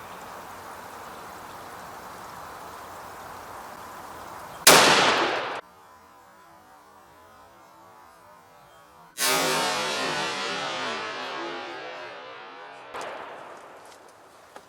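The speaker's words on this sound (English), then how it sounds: "The first shot, I'm shooting at a steel target about 50 yards down range" A S&W .500 Magnum revolver fires two loud, booming shots at a steel target about 50 yards downrange, each blast trailing off in a long echoing decay, with a faint third impact near the end.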